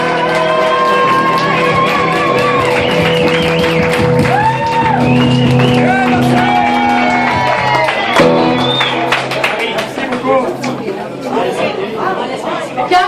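A party crowd at a tribute celebration cheers and applauds as a couple is called up on stage, dense chatter and whoops carrying over music-like tones throughout, loud and close.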